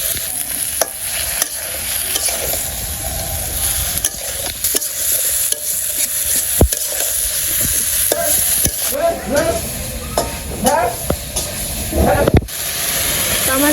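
Vegetables with salt, turmeric and chili frying and being stirred in a pan: a continuous sizzle with repeated scraping and clattering strokes of a spatula, while a voice talks over it.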